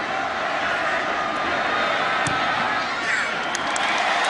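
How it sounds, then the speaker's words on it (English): Football stadium crowd at Auburn versus Florida in 2007, cheering loudly and steadily throughout, a broad continuous roar with scattered whoops and brief sharp accents. "The crowd really going nuts now."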